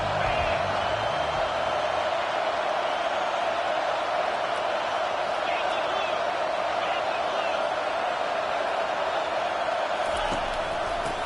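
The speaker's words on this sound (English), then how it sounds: "Decibels rising as the crowd gets behind this defense on 3rd down." A stadium crowd at an American football game roars steadily and loudly on a defensive third down, a dense, continuous wall of cheering that holds its level throughout without pause.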